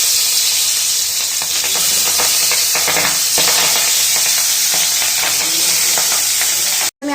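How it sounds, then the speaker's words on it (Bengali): Fish fry in hot salted oil in a wok with a loud, dense sizzle and hiss close up, stirring scrapes flickering through it before a sudden brief cutoff near the end; no talking. "এবার মাছগুলো ভেজে নেব।"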